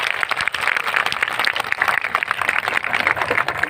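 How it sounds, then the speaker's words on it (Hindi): A crowd claps in steady applause to welcome guests at a daytime gathering in a tent pavilion, dense and continuous throughout with no voices. "सारे अतिथियों का स्वागत हम तालियों के माध्यम से ही पुनः करें"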